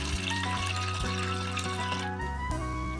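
Water poured from a tap into a large bowl of soaked tamarind for fuchka water, a steady close filling rush that shifts in tone partway through, with no talk.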